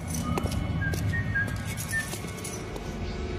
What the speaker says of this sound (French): Une chansonnette sifflait joyeusement